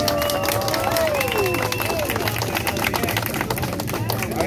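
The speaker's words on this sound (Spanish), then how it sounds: "Va a ser por aplauso, por favor." Audience clapping and cheering to vote in a dance battle, a dense noisy crowd roar with music and voices mixed in throughout.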